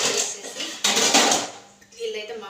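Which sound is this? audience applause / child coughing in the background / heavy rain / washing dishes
washing dishes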